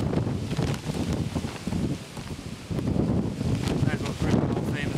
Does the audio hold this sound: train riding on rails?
no